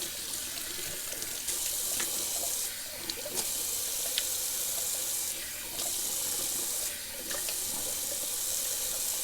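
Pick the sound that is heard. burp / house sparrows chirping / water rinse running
water rinse running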